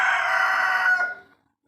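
A single large Aseel rooster crows loudly nearby, one long drawn-out call that cuts off into silence.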